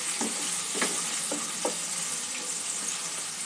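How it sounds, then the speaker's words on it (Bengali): Onions fry in a pan for an egg gravy, giving a steady soft sizzle with a few light stirring scrapes and taps, fairly quiet, with no talking. "পেঁয়াজটা একটু ভেজে নেব।"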